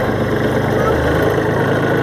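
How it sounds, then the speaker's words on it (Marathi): A tractor engine running as it pulls up on a village farm, a steady close low throbbing hum, with people talking nearby. "हे आता आमचं ट्रॅक्टर आलेलं आहे."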